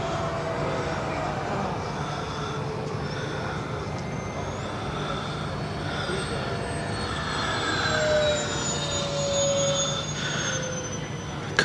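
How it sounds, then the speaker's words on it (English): A 50-year-old 1/3-scale Heath Parasol RC model airplane engine drones on its landing approach at a St. George, Utah flying field, a steady mid-distance buzz with slowly shifting pitch and a gently rising level near the end. "Coming in for a landing."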